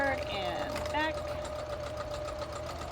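A sewing machine stitches forward and back along the corner of a pillow slipcover, a steady mechanical whir running close and continuous under a person's talk.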